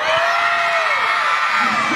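A crowd at a feast-day performance cheers and shouts in one continuous loud roar of whoops and yells, dense and sustained from start to finish.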